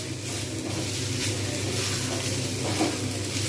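Elephant foot yam fries in a pan over a low flame, a continuous close sizzle that stays even and unbroken throughout.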